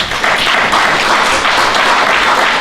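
A church congregation applauds and cheers together in acclaim during a sermon, a dense, steady wash of clapping that stays loud from start to finish with no gaps.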